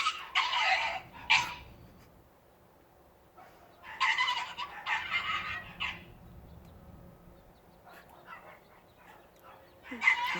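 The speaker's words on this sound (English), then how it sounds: "No, she's barking because she's alone." A dog left alone barks from separation anxiety, clustered bursts of sharp barks separated by quiet gaps, moderately close, with one more burst at the end.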